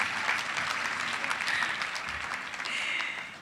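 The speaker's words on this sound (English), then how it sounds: "you can applaud that." Audience applauding at a live awards event honoring women of achievement, a dense, steady clapping from a sizable crowd, close and fairly loud throughout.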